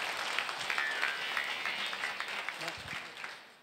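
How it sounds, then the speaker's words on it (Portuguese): Church congregation applauding during a pastors' gathering, dense crowd clapping at moderate distance that slowly fades out near the end. "Dê um aplauso ao Senhor Jesus."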